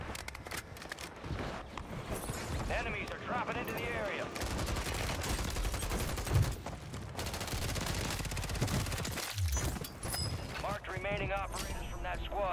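Rapid bursts of automatic gunfire and single shots crack through a Call of Duty Warzone match on Fortune's Keep, layered with game sound effects while players talk over the continuous shooting.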